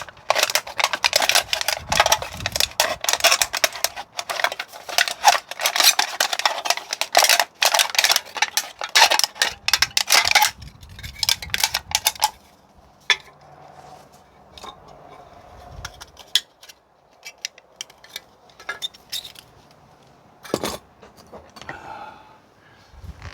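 Rapid, rough crunching snips of scissors chewing through a thin aluminum can, dense and loud at first, then sparser clicks and cuts trailing off.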